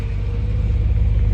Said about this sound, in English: Downshifts are so crisp.